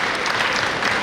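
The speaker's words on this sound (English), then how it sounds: "A round of applause for her." Brief burst of audience applause at an academic symposium, a short wash of clapping at moderate level.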